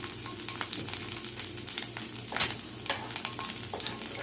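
Green peppers land in a pan of potatoes frying for home fries, with a constant close sizzle, light crackling and occasional spoon scrapes and taps throughout.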